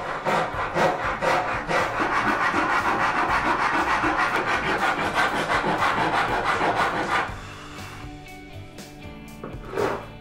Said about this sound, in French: Et je peux enlever l'excès de bois à la râpe.